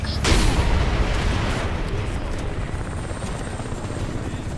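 A loud helicopter in Crysis 1 Remastered, with a dense rotor roar and a deep, rumbling throb after a sharp initial burst, holding steady throughout.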